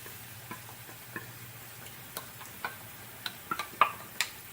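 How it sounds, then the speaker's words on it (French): Chicken with mustard stirred in a sizzling pan gives a faint, steady frying hiss broken by a series of sharp utensil scrapes and taps that come more often toward the end. "Faites de la place pour brasser. Mélanger tout ça."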